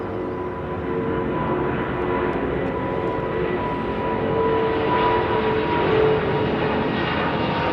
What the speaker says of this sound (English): That's a light aeroplane, that is.